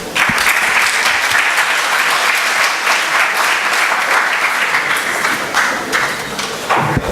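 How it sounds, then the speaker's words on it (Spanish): An audience at an international arbitration congress gives a strong round of applause, a thick, continuous wash of clapping that stays loud and even for about seven seconds. "Le brindamos fuertes aplausos."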